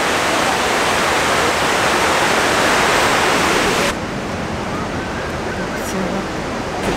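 Loud, steady rush of water falling in the 9/11 Memorial fountain at Ground Zero, broadband and continuous, close by, with the roar easing slightly partway through.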